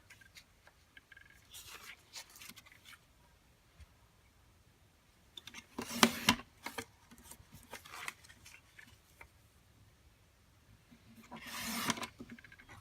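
A paper trimmer slices cardstock into three pieces in a quiet craft room, giving short crisp cutting strokes around the middle and again near the end, with light handling rustles between.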